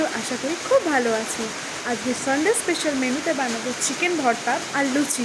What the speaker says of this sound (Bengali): বাইরে প্রচণ্ড বৃষ্টি পড়ছে